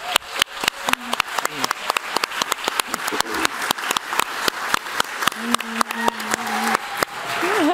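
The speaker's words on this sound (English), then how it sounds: "Can I have a warm applause" A seated audience at an artist talk warmly applauds panelists taking the stage, producing a steady patter of many hands clapping, close and lively, with faint voices underneath.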